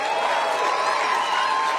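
A crowd at a political rally speech claps steadily, a dense, even wash of applause that holds for the whole moment with no break.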